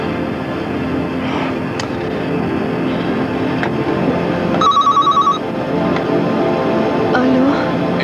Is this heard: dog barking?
no